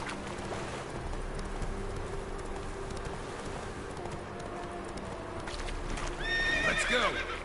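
Roach, the horse in the video game Witcher 3, galloping with a steady clip-clop of hooves under ambient noise, then a loud whinny near the end.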